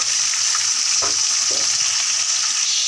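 Onion and tomato hit a hot pan for a potato bhaji, giving a loud, constant close-up sizzle with a couple of soft thumps as the pieces drop in.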